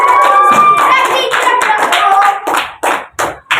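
A school class claps hands for a classmate, brisk and close at first, then thinning into a few separate claps near the end, with a voice heard briefly over the start.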